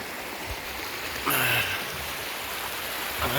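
A river in Real, Quezon flows with a steady broadband rush of water, close and continuous, with a brief brighter splash in the middle.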